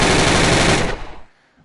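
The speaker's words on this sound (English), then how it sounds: "MPX, submachine gun with a very fast fire rate." Rapid burst of an MPX submachine gun firing in a VR video game, a dense loud stream of shots for nearly a second, then cutting off into a short fading tail.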